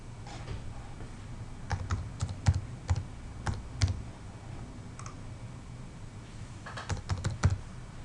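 Keys on a computer keyboard are typed in short irregular bursts of quiet clicks, close and soft, with pauses between words in a quiet room.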